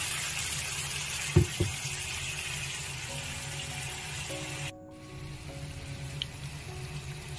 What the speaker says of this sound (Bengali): মশলা কষানো হয়ে গেছে, জল দিয়ে দিলাম।